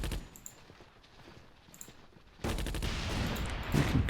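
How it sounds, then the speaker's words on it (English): Anti-tank guns fire in the wargame Attack at Dawn: North Africa, a quiet crackle of scattered shots giving way midway to a dense, loud, continuous barrage of gunfire with no talk. "Anti-tank guns taking on these ones."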